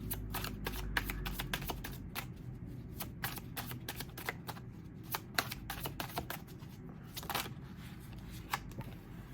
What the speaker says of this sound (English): So I'm just pulling 3 cards for the base spread, 3 cards for clarifier.